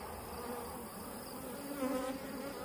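Honeybees buzz steadily around a hive brood box, a soft, close, continuous droning hum with slight swells, heard alone with no talk.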